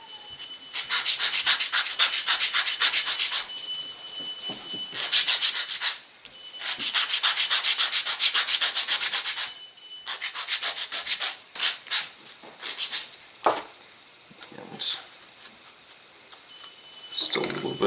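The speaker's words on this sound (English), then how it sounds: "you are going to need to sand this guy down a little bit" Close, loud sanding of a model aircraft fuselage part made of balsa and plywood: rhythmic rasping strokes come in long bursts with brief pauses between them.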